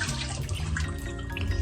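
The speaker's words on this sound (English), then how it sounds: "We are going to rinse them again." Potatoes being rinsed in water while making potato starch, with a steady close wash of splashing and running water and a few drips, loud and continuous.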